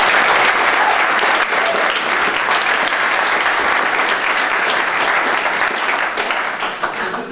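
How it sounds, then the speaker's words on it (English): A big round of applause for three Aughawillan Gaelic football men fills the room, loud, dense and sustained from start to finish, tapering slightly at the very end. "could we have a big round of applause for the 3 Aughawillan men?"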